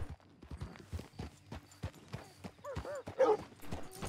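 A horse's hooves clip-clop in the video game Red Dead Redemption 2, a steady near walking rhythm with a dog yipping and a brief neigh, under quiet background sound.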